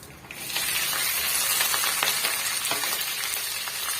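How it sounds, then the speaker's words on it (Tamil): Green chillies hitting hot oil with curry leaves in a pan for puli milagai thokku, a quiet start bursting into loud, continuous close sizzling with crackles and pops, with no one speaking. "இப்போ இது கூடவே நம்ம பச்சை மிளகாவை சேர்த்துக்கலாம்"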